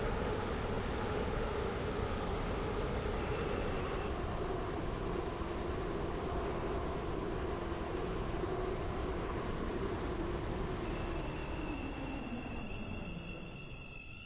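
A train in a railway video game pulls into Stepford East station, a steady rumbling engine and rail roar that slowly winds down near the end as it comes to a stop, with a faint chime near the end.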